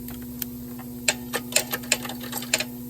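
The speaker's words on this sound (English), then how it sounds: "So I'll take this post out. So that uses a 19mm socket." A 19mm socket wrench working a post off a John Deere JE75/JX75 self-propelled lawn mower, a quiet series of irregular close ratcheting clicks over a steady low electrical hum.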